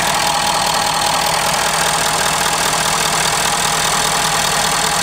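A 2011 Ford F350 dually crew cab with the 6.7L diesel engine idles loud and close, with a steady low rumble and a rough, clattering texture throughout and no speech.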